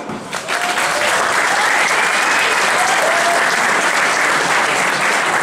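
Audience at a startup event applauding, a dense, sustained wash of clapping from a sizeable crowd, loud and steady throughout.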